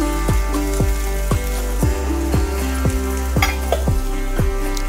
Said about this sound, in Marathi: सर्व छान मिक्स करून घ्यायचं आहे.